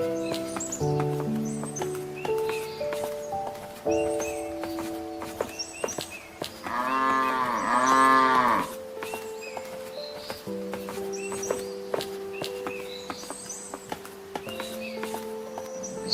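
A cartoon cow lets out one drawn-out moo, loud and wavering, over a steady bed of plucked background music.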